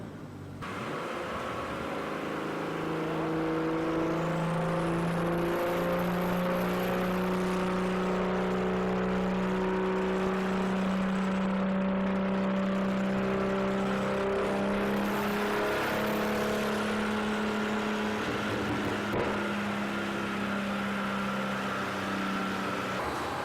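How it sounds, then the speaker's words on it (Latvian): BMW E46 coupe engine held at full load on a dyno during a power run, a loud, sustained drone with steady rising and falling harmonic tones over about twenty seconds, close and continuous. "Tā, esam gatavi pirmajam gāzienam, pirmajam atstiepienam."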